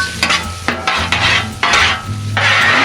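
Fatty chorizo fries on a Blackstone griddle, loud and close, with a spatula stirring and scraping it in several distinct bursts over a continuous greasy sizzle.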